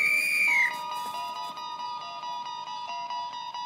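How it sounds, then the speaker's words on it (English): An old woman in the 1991 film Don't Tell Mom the Babysitter's Dead blows a whistle. A shrill, close blast opens, followed by a sustained, wavering tone with faint musical tones. "Mrs. Durack, she blows her whistle"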